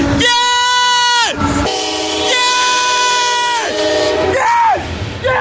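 A CSX Georgia Railroad heritage locomotive leading a southbound coal train in Tullahoma, Tennessee sounds its horn in loud sustained blasts while rumbling past close by, with excited shouting over it.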